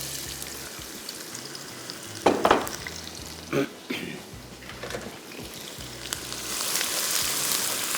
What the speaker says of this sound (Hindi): प्याज की पहले फ्राई होगी